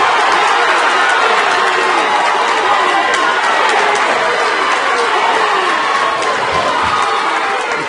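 A boxing arena crowd at a Golden Gloves bout roars and cheers continuously for fighter Dan Bodish, a dense, loud wash of voices filling the hall.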